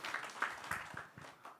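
Faint, brief applause from a church youth congregation at the close of a retreat sermon, scattered claps sounding at a distance in a hall.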